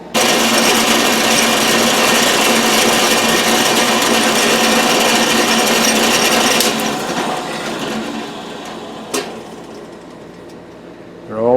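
A power drill bores holes into an air manifold, a loud, steady whine that runs for several seconds, then winds down into lighter handling sounds and a short sharp knock.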